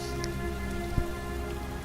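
Heavy rain falls constantly in the video game Heavy Rain, a thick hissing wash of drops on surfaces with a single soft thump partway through, no speech over it.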